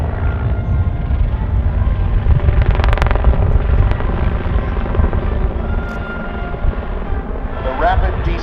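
A helicopter spirals down in a rapid descent at the Southport Airshow, a steady rotor and engine drone held at a constant loud level throughout, with a voice commenting over the top.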